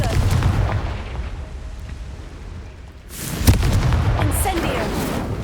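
A Confringo fire spell bursts in Hogwarts Legacy with a sharp, loud blast midway through, followed by a crackling, roaring tail over a steady rumbling background of combat noise.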